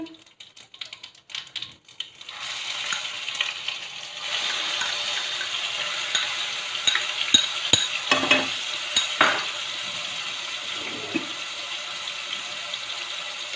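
Onion-ginger paste frying with cumin and mustard seeds for a soybean paneer dal, a continuous close sizzle with scattered sharp spatula clicks and stirring taps over the pan.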